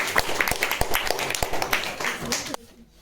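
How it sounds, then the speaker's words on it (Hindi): A classroom claps for a student who answered a maths question correctly, scattered sharp claps in an uneven rhythm mixed with voices. The clapping stops abruptly near the end. "इनके लिए भी ताली हो जाए।"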